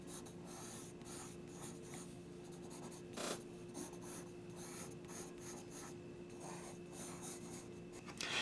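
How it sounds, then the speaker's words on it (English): A pencil sketches on paper in quick, soft scratchy strokes, close and quiet, with short pauses and one sharper stroke partway through, and no voices. "Doing a little drawing of Tig here, leaping for joy"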